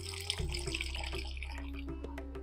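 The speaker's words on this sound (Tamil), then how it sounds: "இப்போ தண்ணி சேர்க்குறேன்." Water trickles and splashes softly into moong dal paratha dough in a mixing bowl, a faint, short continuous pour with light dripping.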